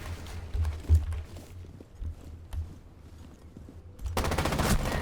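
Gunfire in Rainbow Six Siege, a few sharp shots early followed by quieter thuds, then a louder burst of rapid fire near the end, with players chatting faintly.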